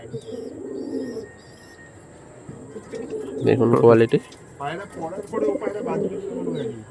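Young Kalshira pigeons coo in a pair, soft repeated throaty calls that swell midway, close by, mixed with someone talking.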